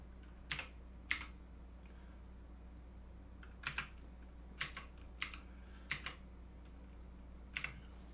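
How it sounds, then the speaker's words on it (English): Computer keyboard keys typed in short, irregular bursts of a few clicks each with pauses between, close and fairly quiet against a steady low hum, no voices. "Old man typing."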